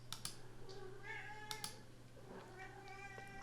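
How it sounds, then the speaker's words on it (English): A bored pet cat meows several times in the background of a quiet room beside a computer, the short, fairly faint calls spaced out over a low steady hum. "My cat is pretty bored and annoyed that I'm sitting here talking to my computer and not to her."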